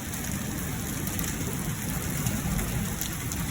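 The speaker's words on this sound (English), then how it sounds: "Oh yeah, it's hailing, boys." Small hail falling in a thunderstorm over central Illinois, a dense continuous patter of pellets striking surfaces nearby, steady and fairly loud with no voices.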